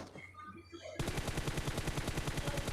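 Rapid automatic gunfire in a battle royale video game, loud and close, a steady stream of shots that starts abruptly after a quieter stretch of background game sound.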